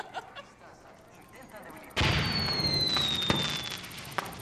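A planted flyer bomb goes off in Far Cry 6: quiet game ambience, then a sudden loud blast followed by sustained crackling and rumbling debris with a faint falling whistle, close and dominant.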